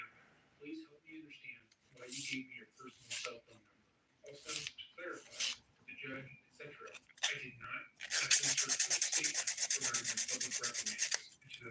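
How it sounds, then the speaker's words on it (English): A nail file rasps quickly back and forth across dip powder nail polish, a close, bright, scratchy burst near the end that follows several seconds of talking. "that's just me filing it. Taking my dip off."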